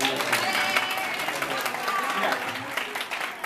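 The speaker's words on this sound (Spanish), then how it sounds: "la podéis aplaudir si queréis" An audience at a storytelling session claps for a few seconds, a lively patter of hands with a voice speaking over it at moments.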